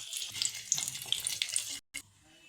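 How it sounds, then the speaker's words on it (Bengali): Nigella seeds and a dried chili hit the hot oil left in the pan from frying fish. They give a steady hissing sizzle with small crackles, which breaks off briefly near the end and then returns faintly. "আমি মাছ ভাজার তেলের মধ্যেই একটু কালো জিরা আর একটা শুকনো লঙ্কা দিয়ে দেবো।"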